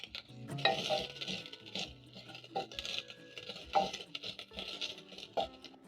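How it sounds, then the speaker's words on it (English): Crushed garlic and ginger sautéed in a pot for oxtail, heard as quiet, intermittent clinks and scrapes of a utensil against the pot with a soft underlying sizzle, no voices. "Saute for around 30 seconds until the garlic and ginger is flavorful."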